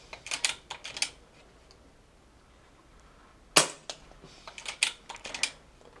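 Brocock Sniper HR .25 calibre air rifle firing JSB Hades pellets outdoors, a single sharp crack standing out among scattered lighter clicks and taps, with no talk.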